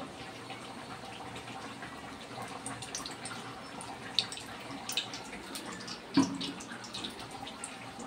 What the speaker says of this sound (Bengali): সবজিটা রান্না করব, তেলটা ঢেলে দিচ্ছি